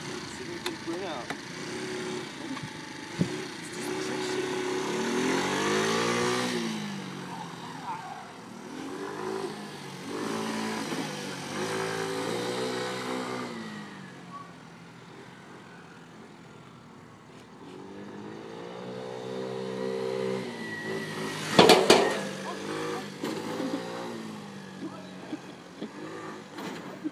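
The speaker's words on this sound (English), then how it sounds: "Doing a little trick riding today. My Vespa." A Vespa scooter being trick-ridden in Las Vegas, its small engine revving in rising and falling surges that swell and fade across the stretch, with people talking over it.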